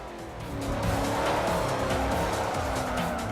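An A-class muscle car in a racing video game slides through a corner, its engine roaring loud and steady as the tires squeal and skid throughout, with no talking.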